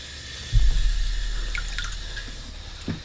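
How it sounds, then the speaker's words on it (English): A kitchen tap is turned on and lukewarm water runs into a container used for soaking ranunculus corms, a sudden splashing onset that settles into a steady trickling flow, close and fairly loud. "Now I'm gonna go ahead and turn the water back on."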